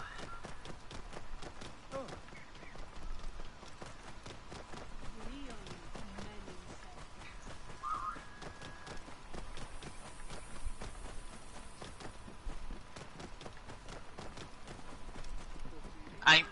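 Rhythmic hoof footfalls of a camel ridden in the Assassin's Creed Origins video game, a steady plodding clip-clop running throughout under a faint game background.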